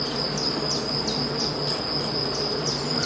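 Black honey bees buzz in a dense, steady drone at an open hive during a colony inspection, close and continuous throughout with no talk.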